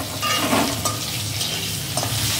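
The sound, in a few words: stirring fish curry with salt and turmeric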